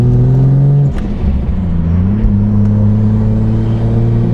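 A Ford FG Falcon XR6 Turbo fitted with a Varex exhaust drives along with a loud, steady exhaust drone, briefly lifting off the throttle before settling back into a deep, even cruise.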